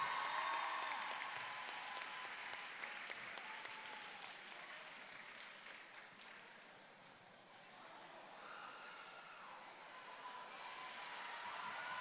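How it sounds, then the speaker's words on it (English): Audience clapping at a high school student talent show, a steady, fairly distant round of applause that holds for the whole stretch, dipping slightly midway before swelling again. "How about another round of applause for Valerie and David"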